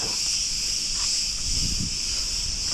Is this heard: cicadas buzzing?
yes